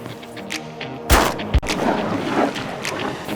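Shotguns fire during a duck hunt in the open: two sharp, loud blasts about half a second apart over wind and outdoor ambience.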